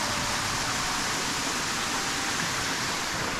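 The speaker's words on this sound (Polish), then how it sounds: "tutaj mamy jeszcze wodospad." Steady broadband rush of a waterfall in an old quarry in the Lake District, constant and fairly loud with no breaks and no voices.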